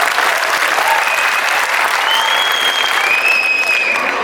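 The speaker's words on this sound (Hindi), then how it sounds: "चलो और जोर से ताली बजा दो तो शुरू करती हूँ।" Loud, sustained clapping fills the hall as the audience at a poetry recital during the Aligarh Mahotsav applauds, with a couple of whistles rising above the dense crowd noise.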